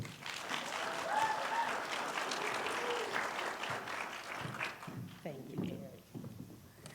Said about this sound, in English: So let's give a round of applause for Mrs. Robin Ford.